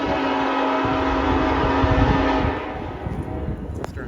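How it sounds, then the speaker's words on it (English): A Norfolk Southern NS-65E freight train with a trailing BNSF locomotive rumbles steadily past at close range in the rain, a loud continuous roar with a faint high horn-like tone that eases slightly toward the end. "The next train that I saw was NS-65E with a BNSF trailing."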